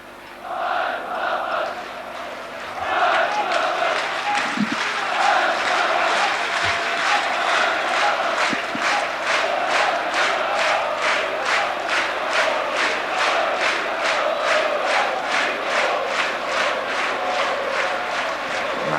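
Spectators at a Dinamo Zagreb versus Hajduk Split football match clap in rhythmic, evenly spaced bursts that build after a few seconds and continue steadily, a large distant crowd under an open-air stadium murmur.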